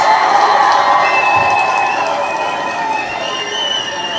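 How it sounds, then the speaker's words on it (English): An audience cheers and applauds as a steady, fairly loud wash of crowd noise, with shouting voices blended into the clapping for a few seconds. "You all really, truly deserve a round of applause."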